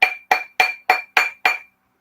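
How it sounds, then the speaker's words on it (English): Six evenly spaced, close hammer blows on a sterling silver spiral ring being flattened, each a bright metallic clink with a short ringing tail, no voices. "I'm just going to keep hammering on that until I can see that all of the spirals are laying down flat"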